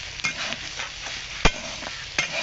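Green chillies sizzle in hot mustard oil with a steady frying hiss, punctuated by a few sharp clacks of a spatula stirring the pan, close and moderately loud with no voices.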